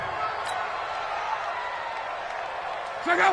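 Stadium crowd at an NFL football game, a broad steady murmur of many distant voices filling the background under a commentator's voice, swelling slightly at the end.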